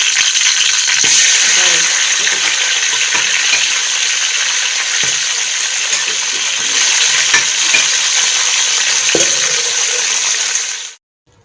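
Sliced onions frying light brown in a pot for Pakistani beef yakhni pulao, giving a steady close crackling sizzle for about eleven seconds, broken by occasional scrapes and clinks of stirring.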